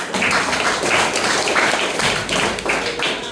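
An audience at a kho-kho camp event in a village gives a burst of clapping. The applause is full and close, with uneven rhythmic swells that continue for a few seconds.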